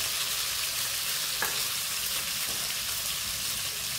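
Tilapia fillets, fried with spices Indian style, sizzle steadily in a pan as a close, even hiss with one brief utensil tap, and no talking.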